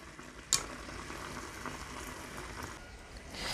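Mussels in a hot Bodine pot with fresh thyme, stirred and tossed, giving a steady low bubbling sizzle with one sharp clink near the start, no talking.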